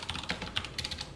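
Computer keyboard typed quickly while writing Python code, with a steady patter of light, close key clicks and no talking.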